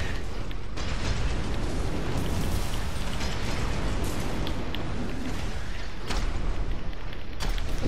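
Grenade launcher blasts in the mech combat video game Armored Core 6, a dense, loud wash of explosions and booming bursts that rumble continuously, with sharper hits standing out near the start and end.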